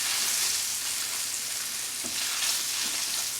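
Salmon fillets searing skin-side down in browning butter in a pan give a steady, fairly loud broadband sizzle throughout, with a few faint crackles and pops, and no talking.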